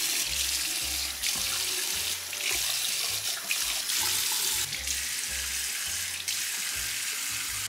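Running tap water pours steadily into a sink while a face mask is rinsed off, a continuous close splashing with small shifts as hands move through the stream; no one speaks.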